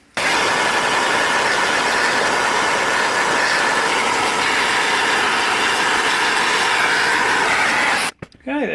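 A gas torch heats silver for casting into a mould, giving a steady loud roaring hiss that runs nearly unbroken before cutting off abruptly near the end.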